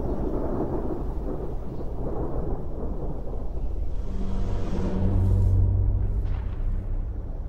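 Thunderstorm rumbling over a chimpanzee troop's habitat, a broad, steady roar of rain and wind with deep low thunder rolling in and swelling toward the end, no voices.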